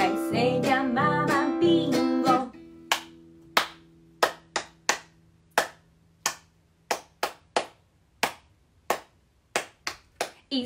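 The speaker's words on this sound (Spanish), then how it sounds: "How many claps?" A few people clap sharp, distinct hand claps to the beat of a children's song during a music session. At first they sound under singing and a keyboard, then about a dozen separate claps ring out alone in a spaced, steady rhythm.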